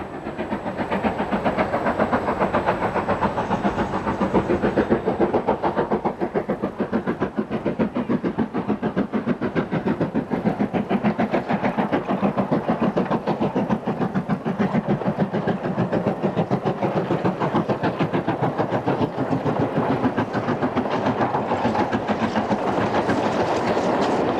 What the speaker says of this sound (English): engine approaches Morra en route to Mallaig.